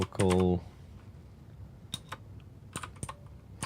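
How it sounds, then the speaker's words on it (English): Keys clack on a new, loud, clicky-switch computer keyboard, a few sharp separated clicks and short bursts close by, after a brief voiced sound at the start. "my keyboard is super loud because I bought a new keyboard like a year ago. But because they're clicky keys"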